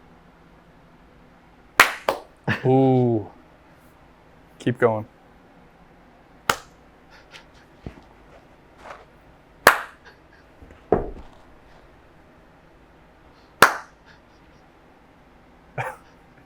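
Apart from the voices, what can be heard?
people trying to clap hands at the same time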